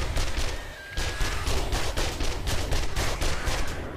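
SMG gunfire in the video game 7 Days to Die during a Halloween horde night on foot: a steady automatic stream of close, punchy shots in a fast regular rhythm, with a short break before firing resumes.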